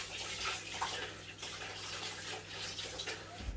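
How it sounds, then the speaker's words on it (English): Tap water runs in a continuous close splashing stream while hands are washed, steady and moderately quiet throughout. "I need to wash my hands quick."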